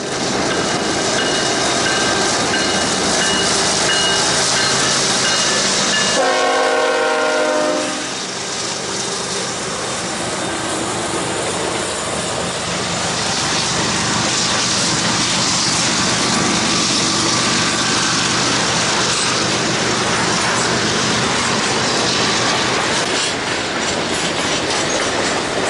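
A long freight train led by two GE Evolution locomotives and a Dash-9 rolls past close by with intermodal cars, a horn blast giving way to continuous loud wheel rumble and clattering rail joints.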